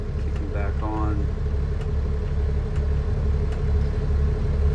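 A 2013 International 7600 single-axle dump truck engine idles steadily with a low, even diesel rumble close by, and a brief voice is heard near the start.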